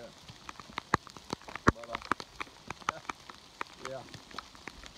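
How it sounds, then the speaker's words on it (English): Rain falls on a spring hike after thunder and wind, with sharp, scattered drops pattering close by, some louder taps among them and a voice briefly speaking. "This is as hard as it's rained yet."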